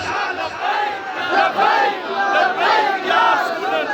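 A large crowd at a religious gathering chants a slogan response in unison, loud and close, with voices rising and falling in repeated rhythmic bursts.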